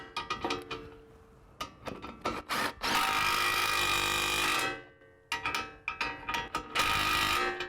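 Power tool running down nuts on a vehicle drive axle: bursts of impact ratcheting and sustained whirring runs, loud and close, separated by brief pauses.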